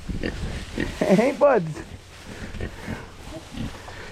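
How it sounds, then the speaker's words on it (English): Pigs fed on corn fodder grunt and oink in their bedded pen, a few close, loud squealing grunts in a short burst while someone talks to them. "What's going on, pigs? Are you loving your life?"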